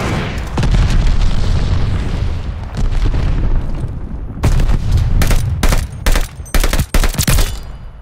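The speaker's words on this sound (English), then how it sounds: "Enemy's got a glide bomb incoming." A glide bomb detonates in a Call of Duty Vanguard multiplayer Domination match: heavy booms and rumbling blasts, then a rapid string of sharp, loud gunshot cracks in bursts toward the end.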